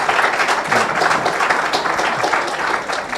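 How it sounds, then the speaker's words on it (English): Audience at a Refresh Miami startup fundraising meetup bursts into steady, dense applause, many hands clapping together for the full stretch at an even, close level without any talking. "Give yourselves a round of applause for showing up"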